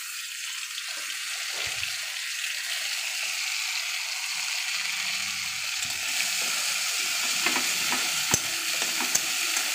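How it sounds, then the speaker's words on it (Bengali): Mustard paste stir-fried in a hot pan while cooking lentil fritters, giving a steady broadband sizzle with scraping spatula strokes and a few sharper clinks near the end, loud and continuous with no talking. "এবার সর্ষে বাটাটা দিয়ে দেবো।"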